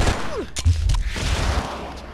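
A couple of sharp gunshots crack close and loud in the Oni action video game, followed by a rumbling burst amid game noise, with no talking.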